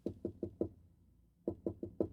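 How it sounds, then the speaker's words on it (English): Beethoven's knocking rhythm is played as pizzicato in Soundtrap: four short, plucked notes in quick even succession, a brief pause, then another group of four, clean and close. "Beethoven came up with this knocking rhythm initially. That's pizzicato, right?"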